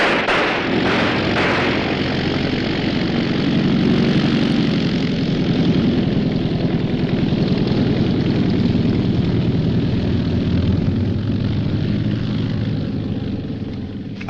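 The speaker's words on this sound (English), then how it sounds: "That's a pickup plane." A propeller-driven pickup plane drones overhead in a 1942 wartime film scene, a loud, steady engine roar that holds throughout with no talking.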